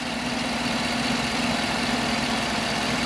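A 2010 Chevy Tahoe engine idles with the AC on and a new battery and alternator fitted, a steady low hum with a constant drone and no voices.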